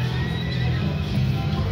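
A Horsepower slot machine plays a short electronic horse whinny over a steady casino hum, loud and close, lasting under two seconds.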